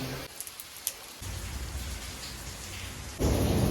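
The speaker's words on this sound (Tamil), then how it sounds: "பாபுஜி நல்ல மழை பெய்யுதுங்க" Heavy rain pours steadily at a cave in the Himalayas, a dense continuous hiss that thickens partway through and swells louder near the end, with a few faint knocks early on.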